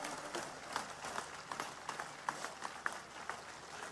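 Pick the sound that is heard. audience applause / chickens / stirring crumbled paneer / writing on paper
audience applause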